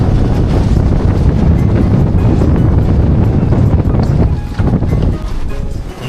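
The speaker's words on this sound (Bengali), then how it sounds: "এখন ঝড় আসতে শুরু করেছে" A storm with strong wind and rain sweeps over a char on the Jamuna river, making a loud, continuous roar and buffeting, heavy rumbling gusts that ease slightly near the end, with no talk.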